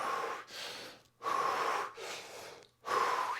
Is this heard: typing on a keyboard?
no